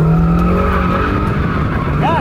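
Loud, steady engine roar with tires skidding and squealing continuously as a car is pushed hard, close and dominant throughout.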